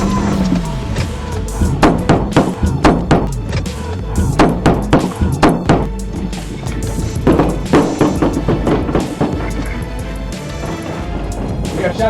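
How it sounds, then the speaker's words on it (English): A stolen Mazda driven by a fleeing suspect accelerating into police vehicles during a confrontation, heard as a series of repeated loud metallic bangs and crunching impacts in irregular bursts over a noisy background, with voices partly mixed in. "Instead of stopping, Dowdle accelerated into police vehicles."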